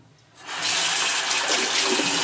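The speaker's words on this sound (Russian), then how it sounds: "новая головоломка, как открывается кран" A tap is opened and water gushes out in a loud, steady stream into a basin, starting abruptly after a moment of quiet and running continuously.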